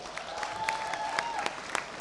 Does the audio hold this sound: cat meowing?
no